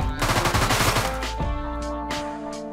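An SMG fires in the Deadbolt video game, a rapid burst of loud close shots lasting about a second, followed by a few sparse clicks and faint ringing tones.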